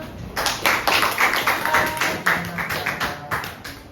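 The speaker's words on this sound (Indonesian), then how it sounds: "Silakan tepuk tangannya." A classroom of students applauds a classmate with a burst of brisk, uneven clapping that rises and falls in waves, fairly close and loud, lasting a few seconds with no talking.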